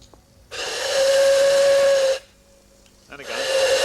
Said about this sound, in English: Aaron, would you send the whistle?